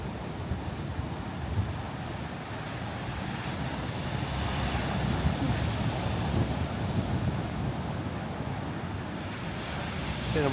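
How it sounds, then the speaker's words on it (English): Breaking ocean surf on a windy, cloudy beach forms a broad, continuous wash of noise with gusty wind buffeting the microphone, steady and fairly loud throughout, without clear voices. "Oh, good waves today."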